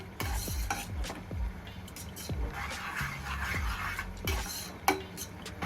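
A spoon stirs thickening vermicelli with custard powder in a pan for homemade falooda, making repeated scraping knocks against the metal with a faint sizzle underneath, close and rhythmic, without voices.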